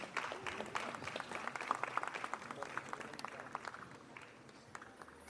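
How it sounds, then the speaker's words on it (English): Audience applause at a Miss Meghalaya pageant, a steady wash of many hands clapping that swells early, then gradually thins and fades toward the end, fairly distant and soft. "Can we please have the applause going?"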